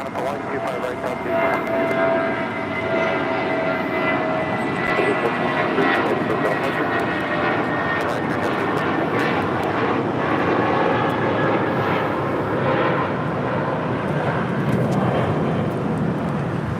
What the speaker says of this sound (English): 1463 taking off to Los Cabos on an A320